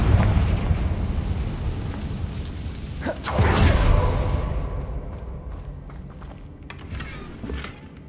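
A Confringo fire spell blasts in Hogwarts Legacy: a low rumbling bed swells into one loud, booming burst near the middle, then rolls off into a fading crackle.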